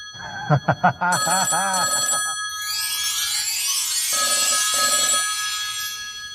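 A telephone rings out in a burst of several loud electronic trills, followed by a sustained ringing tone with a hissy edge that carries on alone over a quiet background.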